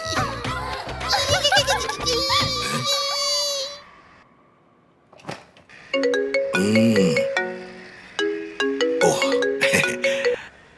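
A phone ringtone plays as an incoming call arrives at home, a bright repeating electronic melody in loud bursts after a stretch of crying and babbling voices, with a quiet pause before it rings.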